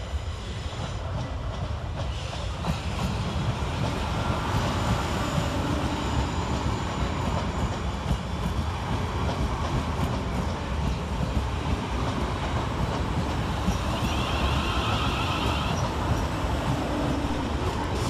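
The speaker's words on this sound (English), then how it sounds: "arriving onto platform 9 is 450-022, 450-081 and 450-011. With the slightly delayed 1830 South Western Railway service from London Waterloo to Alton" Three coupled South Western Railway Class 450 electric multiple units draw into platform 9 at Clapham Junction, a steady loud rumble of wheels and motors with rhythmic clickety-clack and a brief high brake squeal near the end.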